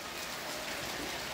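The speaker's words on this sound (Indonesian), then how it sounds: "mohon maaf nih kalau suaranya masih bercampur juga, alhamdulillah lagi hujan lagi ya teman-teman" Afternoon rain falling outdoors, a dense, steady hiss of drops spread evenly across the whole stretch with no talking and no breaks.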